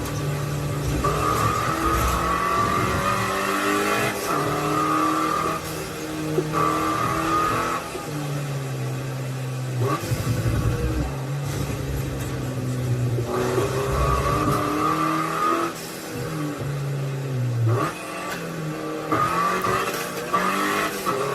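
Racing car engines in a rain-soaked racing video game roar and rev continuously, rising and falling in pitch as they accelerate, with occasional tire squeals in a loud game-like mix; one car's engine sounds faulty after many crashes.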